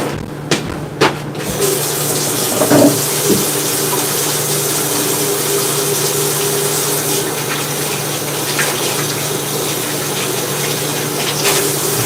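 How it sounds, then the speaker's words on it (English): Water running steadily from a kitchen tap while hands are washed, a constant close gushing stream with a few brief knocks near the start. "Let me wash my hands."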